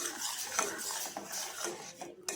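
Spoon stirring lemon juice into a pot of mung bean soup, steady scraping and clinking against the pot with a brief louder knock, close and continuous without speech.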